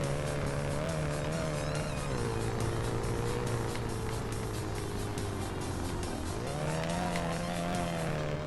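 Turbo Celica in BeamNG driving fast, its engine droning loud and steady with pitch dipping through a shift and rising again, a continuous close mechanical roar without speech.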